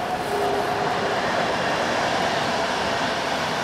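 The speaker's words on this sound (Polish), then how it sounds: "Tutaj te pociągi co chwilę jeżdżą i hałasują, to też człowiek się nie wyśpi." Trains rolling past a riverside winter carp-fishing spot at Dębina, a steady continuous rumble and rail noise with no breaks, fairly loud and close, without voices.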